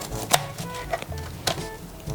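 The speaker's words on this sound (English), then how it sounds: "we're gonna chop some cabbage and tomato" Knife chopping cabbage and tomato on a cutting board for Arabic shawarma, a handful of sharp, close chops spaced irregularly over soft background noise.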